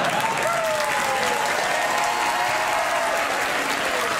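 A studio audience at a late-night talk show applauds loudly, a dense wash of clapping and crowd noise sustained throughout, with faint tonal sounds drifting beneath.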